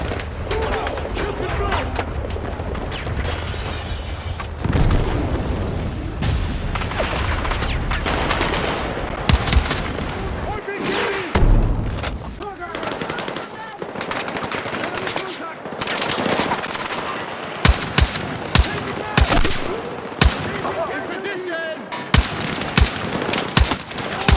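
Bursts of machine-gun and rifle fire fill a Battlefield 6 battle, rapid rattling fusillades and sharp single shots going on almost without a break, loud and close, with voices calling out now and then among the shooting.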